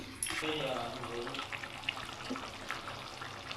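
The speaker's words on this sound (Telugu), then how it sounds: "ఇప్పుడు నీట్గా కలిపేసుకొని మంచిగా ఉడకనిద్దామండి" Mutton curry with salt and turmeric stirred in a pot and left to simmer, a soft bubbling sizzle with spoon scrapes, close and quiet, with no talking.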